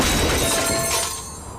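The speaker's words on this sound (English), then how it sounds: "This is the sound of a brand new outdoor grill being hurled off a 20-story building." A brand new outdoor grill hurled off a 20-story building lands in a loud, bright shattering crash that fades as debris settles.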